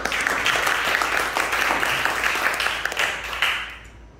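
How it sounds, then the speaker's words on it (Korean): Church congregation applauds after a choir's hymn at a Korean church's Sunday children's service, a steady wash of many hands clapping that fades away near the end. "하나님께 박수로 영광을 올려드립니다."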